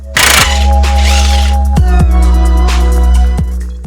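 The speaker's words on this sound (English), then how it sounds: "Gotta get this lower bolt moving. A little seized up in there" A wrench works a seized lower strut bolt on a 2009–2014 Subaru Forester, giving close, loud metallic clicks and ratcheting knocks with sharp transients spread across a few seconds.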